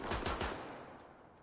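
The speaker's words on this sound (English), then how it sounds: "I really should be using my AK" Bursts of AK rifle fire in the video game Stalker 2, a quick rapid volley of three or four sharp shots followed by a fading reverberant tail.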